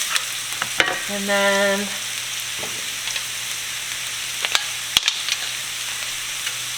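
Garlic sizzles and fries in a pan for duck soup, a steady crackling hiss with occasional sharp clicks of stirring, close and moderately loud, with a brief tonal beep and a few spoken words partway through.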